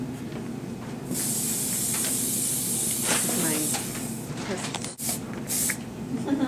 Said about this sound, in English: And then just going with some hairspray.